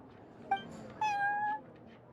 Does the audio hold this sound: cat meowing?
yes